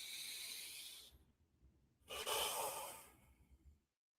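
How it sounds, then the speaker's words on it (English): Slow deep breaths during a gentle yoga breathing exercise, a long airy exhale, a pause, then a fuller inhale and exhale, close and soft with no talking. "let's take some deep breaths"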